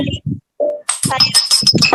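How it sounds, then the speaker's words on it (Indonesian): Light metallic clinks of a spoon against a plate, heard over a Zoom call, a few sharp ringing taps close by, mixed with bright rattling and scraping. "Oh, ada Vina, ada bunyi piring sama sendok"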